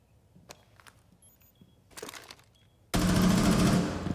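Faint clicks and shuffles come first, then a loud burst of rapid automatic gunfire from Rainbow Six Siege fills the final second or so.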